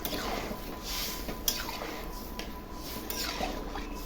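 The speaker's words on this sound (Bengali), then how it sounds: "এখন ঝোল দিয়ে দিচ্ছি।" Broth pours into a pan of spiced potatoes for an egg curry, a steady hissing, splashing flow heard up close with a few faint drips and a small clink, no voices over it.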